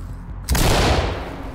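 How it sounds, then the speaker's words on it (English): A flashbang grenade goes off in the Ready or Not tactical shooter during a bank raid: brief quiet, then one loud, close blast that leaves a sustained ringing, roaring wash afterwards. "Flashbang going in."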